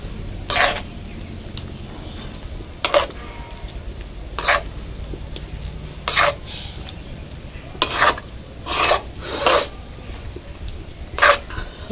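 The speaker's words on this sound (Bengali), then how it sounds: "ভালো করে বেশ দুধের সঙ্গে মিশিয়ে নিতে হবে।" Dough of ripe palm for langcha sweets being mixed with powdered milk in a bowl: close, intermittent scraping and clinking strokes in short bursts, with no talking.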